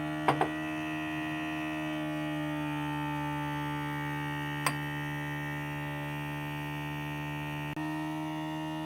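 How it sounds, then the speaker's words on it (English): A steady electric motor hum from a running vacuum filtration pump filtering a methanol mixture, constant and unchanging, broken only by a few faint clicks. "I set up the vacuum filtration apparatus and started filtrating the mixture"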